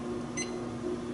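A short electronic beep from a GW Instek APS 7000 AC power source, a single brief tone standing out over a steady low background hum.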